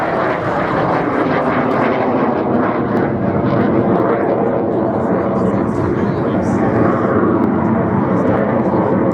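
A Hawker Hunter F1 jet at the Shoreham Airshow in 2014 gives a loud, steady, sustained roar throughout, with a commentator talking over it.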